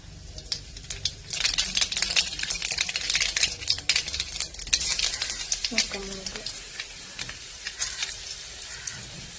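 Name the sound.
mustard seeds spluttering in hot coconut oil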